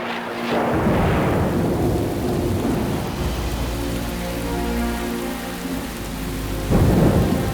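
An unseasonal thunderstorm hits the African savanna near the Mara River. Heavy rain pours steadily, with deep rolling thunder near the start and another loud rumble toward the end, and no voices.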